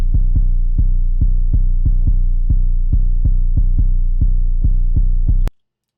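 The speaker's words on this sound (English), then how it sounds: "So we have 808." An 808 bass processed through the Black Box plugin thumps in a steady pattern of deep, boomy low hits, about a dozen pulses over several seconds, then cuts off abruptly with a click.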